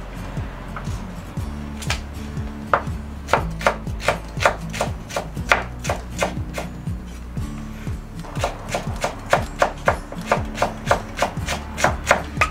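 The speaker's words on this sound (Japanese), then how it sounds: "これも適当に粗くみじん切りにしてください。" A knife coarsely chops domestic garlic on a cutting board, sharp close knocks in quick irregular runs with short pauses between bursts, no talking.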